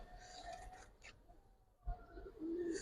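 Faint background rustle and small clicks, then a soft, low coo from a Giribaz silver pankhi pigeon near the end, heard once at close range.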